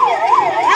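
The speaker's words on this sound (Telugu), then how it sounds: "ఇది అంబులెన్స్." An ambulance siren wails in a steady rising-and-falling sweep, loud and close, with no talk over it.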